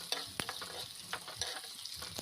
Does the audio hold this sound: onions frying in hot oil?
yes